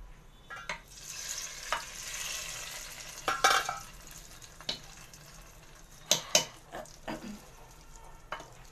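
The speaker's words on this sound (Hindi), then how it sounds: "तो हम इस तड़के को डाल देंगे इसमें दाल में," Fried onion tadka is poured into chana daal and stirred, giving a soft sizzle with scattered clinks and scraping of a spoon against the pot, fairly quiet and with no talking.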